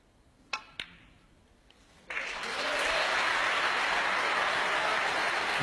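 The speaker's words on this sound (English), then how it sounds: "The crowd have cause to start getting excited again." Two sharp ball clicks on a snooker table ring out, then a crowd breaks into loud, sustained applause that builds and holds steady.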